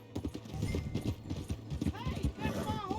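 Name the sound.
horse galloping, clip-clop hooves, in the video game Red Dead Redemption 2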